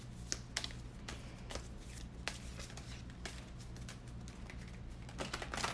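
Tarot cards being shuffled by hand, a soft continuous riffling with scattered sharper snaps and taps against a steady low hum, fairly quiet and close, with no talking.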